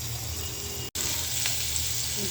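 Eggplant frying in oil in a pan, a steady close sizzle that runs throughout, broken only by a very short drop to silence near the start.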